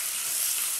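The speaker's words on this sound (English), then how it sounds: "it's going to sound like it's frying" Turkey drippings fry in a pan while gravy is made, giving a steady, close, bright sizzle with no pauses or voices.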